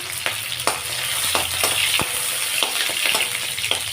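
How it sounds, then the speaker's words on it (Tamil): Chopped green chillies and a small piece of tamarind sizzle in about two spoons of hot oil, with steady crackling and several sharp clinks of a spoon stirring the pan. "எண்ணெய் ஒரு ரெண்டு ஸ்பூனுக்கு விட்டுருக்கேன் அதில் நம்ம கட் பண்ணி வச்சுருக்கிற பச்சை மிளகாயை போட்டுக்கலாம்"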